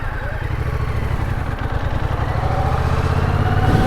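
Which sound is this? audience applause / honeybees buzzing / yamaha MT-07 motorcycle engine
yamaha MT-07 motorcycle engine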